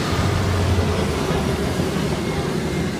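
Train 221118 running straight through platform 1 at Stafford station, a steady loud rumble with low wheel and engine drone filling the whole stretch, close by and continuous, no voices.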